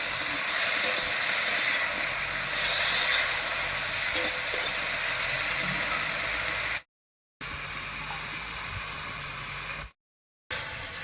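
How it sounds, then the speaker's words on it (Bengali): Pumpkin stalks with turmeric and salt fry in a pan, giving a steady broadband sizzle and hiss that runs continuously for several seconds, with two brief silent gaps near the end. "মিষ্টি কুমড়ো ডাটাটা দিয়ে একটু রান্না করে নিয়েছি"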